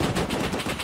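Rapid automatic gunfire in the online survival game Rust, during a raid: a dense, loud, continuous burst of shots that fills the whole moment with no talk over it.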